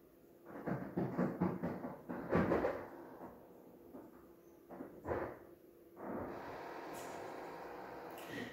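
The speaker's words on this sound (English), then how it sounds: "Sorry about the noise, folks. That's my refrigerator." Clunks, rattles and knocking from a refrigerator's ice maker, irregular and close, then settling into a steady whirring hum.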